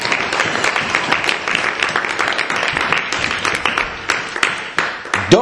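A church congregation applauding during a sermon: dense, steady clapping from many hands that swells and continues throughout, loud and close, with no talk over it.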